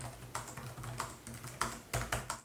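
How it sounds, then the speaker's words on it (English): Typing on the quiet RGB-backlit keyboard of a Dell G16 7630 gaming laptop gives soft, rapid, close key taps in an uneven rhythm over a faint low hum, with no talk. "Key actuations are extremely quiet, so your 1 AM internet arguments shouldn't disturb anyone."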